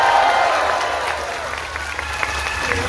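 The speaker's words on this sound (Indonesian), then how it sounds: "Zahir Mania, tepuk tangan." A crowd of fans at an Indonesian Islamic sermon event in Taichung claps together, a sustained, fairly even burst of applause with faint crowd murmur beneath.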